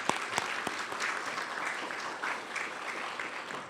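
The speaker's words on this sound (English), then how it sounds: "You can applaud the members of the dais at this time." Luncheon crowd at the National Press Club applauds the dais members: a few sharp early claps, then a steady, moderately distant wash of many hands that fades slightly toward the end.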